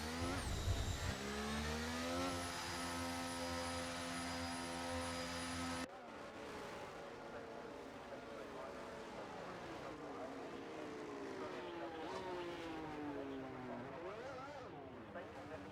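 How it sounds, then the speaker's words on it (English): Formula 1 cars idle and rev on the starting grid in the F1 23 video game, a steady, dense engine drone with rising and falling pitched whines, continuous throughout. "the cars take their positions on the grid"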